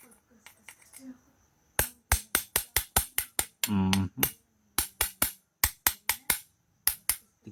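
Sharp hammer taps during a cleaning job on a small item of about thirty grams, struck in quick rhythmic runs of close, bright, distinct clicks, with a brief low voiced sound between the runs.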